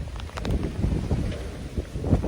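Strong wind buffets the microphone in loud, uneven low gusts with a faint rustle behind them.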